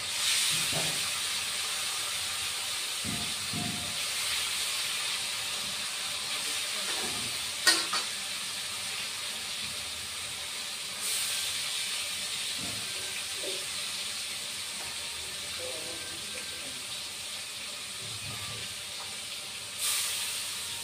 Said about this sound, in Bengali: দুইবারে ভাজতে হবে বন্ধুরা মাছ।